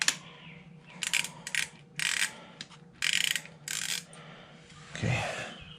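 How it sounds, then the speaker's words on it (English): A ratchet loosening a bolt during an oil service on a BMW F850 GS motorcycle, four or five short bursts of rapid clicking, close and crisp, separated by brief pauses. "Now we unscrew the other bolt."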